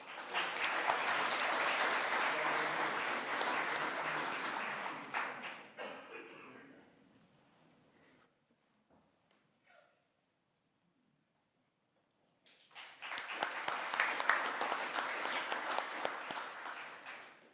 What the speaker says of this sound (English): we'll still give them a round of applause